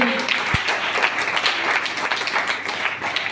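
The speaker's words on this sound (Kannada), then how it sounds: "ಜೋರವಾದ ಚಪ್ಪಾಳೆ" Loud audience applause at a Kannada comedy and humour show, a full, sustained clapping from a crowd that fills the whole stretch at an even level, one sharp knock near the start.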